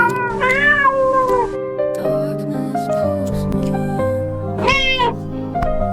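Cat meowing in long, drawn-out cries, two loud mews with a musical backing running underneath.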